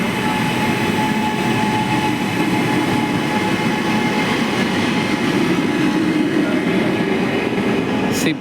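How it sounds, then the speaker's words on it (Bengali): The Shipra Express train from Howrah to Indore rolls along with a loud, steady rumble and rattle heard from inside, with a faint squeal near the end. "শিপ্রা এক্সপ্রেস হাওড়া থেকে ইন্দোর যাচ্ছে, মধ্যপ্রদেশের ইন্দোর যাবে শিপ্রা এক্সপ্রেস"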